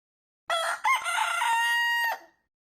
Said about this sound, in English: The source of the noise in this clip is Rudy the rooster.